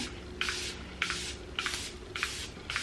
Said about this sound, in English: I picked up the Airbrush Flawless Setting Spray.